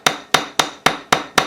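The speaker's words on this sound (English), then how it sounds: "You can also use the wedge shape on the riveting hammer." A riveting hammer strikes a metal jewelry ring six times in quick, even succession. Each blow is a sharp, close, bright tap, with no speech.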